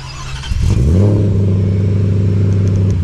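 A 2024 Ford F-150 Raptor R pickup engine cranks by remote start and fires up about half a second in, then settles into a loud, steady idle rumble.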